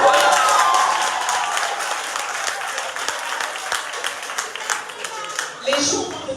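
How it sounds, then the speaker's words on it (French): Audience applause at a university talk on leadership in Ouagadougou, Burkina Faso, a steady wash of clapping from a crowd that holds through the clip and swells briefly near the end. "Merci pour les hommes qui applaudissent"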